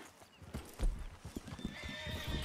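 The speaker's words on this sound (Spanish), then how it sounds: "Detrás vuestra hay unos caballos." Horses in the Red Dead Redemption II roleplay world clip-clop close by with uneven hoofbeats, and a neigh rises toward the end.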